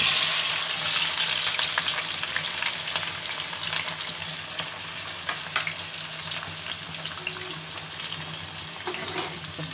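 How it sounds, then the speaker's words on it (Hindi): Onions browning in a pan, a steady close sizzle and crackle of frying that continues with no talk and gradually softens slightly. "सबसे पहले हम प्याज को ब्राउन करेंगे"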